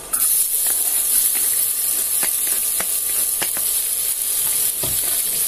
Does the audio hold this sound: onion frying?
yes